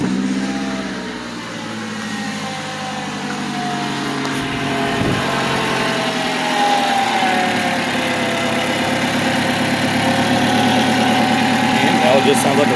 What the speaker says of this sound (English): It just sounds like a regular 4-cylinder.